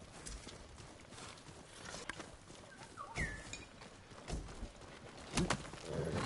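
Horse hooves clip-clop in a video game at a steady walking pace, fairly close, with a few faint chirps and ambient noise around them.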